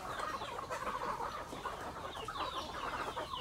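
Hungry chickens, breeders, cluck and chatter in a dense continuous flock chorus while feed is scattered from a bucket, close and steady throughout with no voices.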